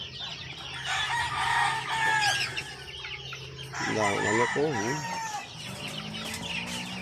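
Fighting cocks on a game farm in Canlaon, Negros Oriental crow and cluck close by, several long overlapping crows with a nearer wavering call in the middle, while someone talks faintly underneath.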